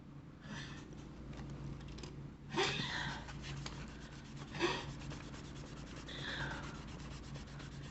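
An eraser rubs on drawing paper while a simple mushroom is sketched, giving faint, close scratchy strokes in short bursts over a steady low background hum, with no talking.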